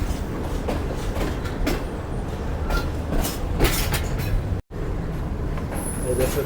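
Shalimar Express train rolling toward Faisalabad station, a steady rumbling ride with faint rhythmic clatter of wheels on rail under constant broadband cabin noise, briefly cut out near the end.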